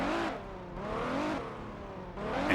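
Car engine in Midnight Club 3 DUB Edition during a citywide autocross tournament through San Diego, revving up and down in rising and falling sweeps, steady and fairly close with no voices.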